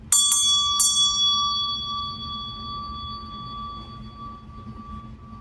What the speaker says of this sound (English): ring my meditation bell here just to clear out the energies